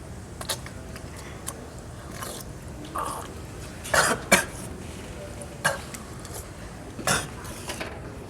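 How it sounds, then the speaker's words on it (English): A few short, quiet coughs and splutters from a person drinking water, scattered among faint clinks and rustles in a quiet room, with no speech. "you cough a little bit"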